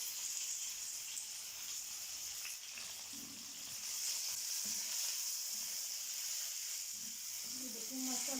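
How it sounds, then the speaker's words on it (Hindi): Vegetables frying in a pan for restaurant-style chicken jalfrezi, giving a continuous bright hiss-like sizzle that holds steady and fairly close, with a few faint knocks and stirring touches beneath it. "सिर्फ 1 मिनट तक हम इसे भी फ्राई कर लेंगे।"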